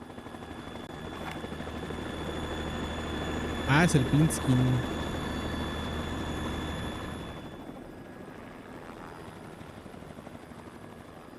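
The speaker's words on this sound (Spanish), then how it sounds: "Está el helicóptero que ocupamos." Helicopter in Metal Gear Solid 2 drones with a steady rotor hum and engine whine throughout, fairly close, while someone speaks briefly over it before the noise thins out.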